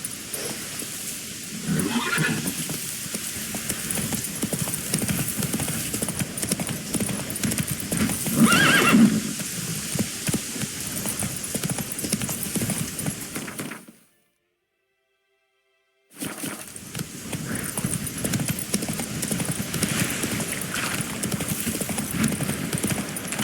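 Roach the horse galloping in The Witcher 3: rapid, rhythmic hoofbeats pound steadily with a couple of whinnies, cut by a two-second silent gap before the galloping resumes.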